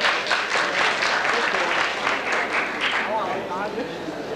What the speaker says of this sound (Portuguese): Uma salva de palmas ao doutor.